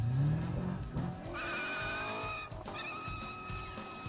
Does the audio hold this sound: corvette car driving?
yes